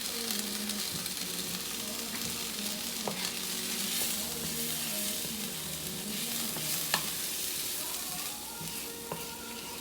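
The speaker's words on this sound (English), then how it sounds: "And then you just stir them in." Lentils are stirred into sizzling oil in a pan: a steady frying hiss runs throughout, with scraping stirs and occasional clicks of the utensil against the pan.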